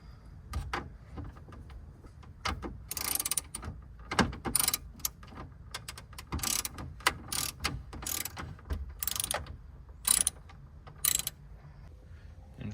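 Ratchet fitted with a 7mm metric deep socket backing out radio screws in a Ford F-150 dash, repeated bursts of rapid close clicking separated by short pauses and handling knocks, with no talk.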